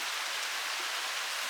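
Steady rain falls outside by a chicken coop and deck, a dense, even hiss of drops spattering on surfaces, continuous and fairly close with no voices.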